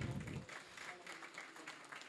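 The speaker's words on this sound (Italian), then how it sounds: "Un applauso a, a Dino" An audience at an evening event for Lino Granzon with Davide Cassani applauds Dino, a soft, distant patter of many hands clapping steadily, heard faintly throughout.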